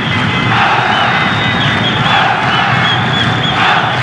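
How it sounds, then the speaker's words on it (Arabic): Egypt football fans in a youth Arab Cup semifinal against Senegal erupt after Egypt's penalty goal, a loud, dense stadium roar of cheering and chanting sustained throughout. "اسمع الجمهور ولع المدرجات"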